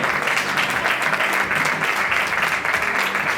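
At a women's all-star futsal game in Lugo, the crowd gives a player a warm, even burst of clapping, dense and close, sustained without pause for a few seconds.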